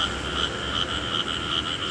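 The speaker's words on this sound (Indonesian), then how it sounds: "Nah, ini ada bunyi-bunyian ini. Bunyi kodok." Frogs croaking steadily outdoors in the early morning at a bus terminal, a continuous chorus of repeating calls at moderate distance with no talk over it.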